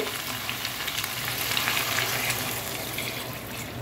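Chicken is sautéed in a pan for akhni pulao, giving a steady, moderately loud sizzle and frying crackle close by with no speech.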